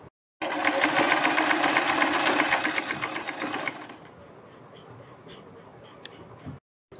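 A sewing machine runs steadily, stitching a kurti neckline, for about three seconds, then drops to a quieter, lighter whir before stopping.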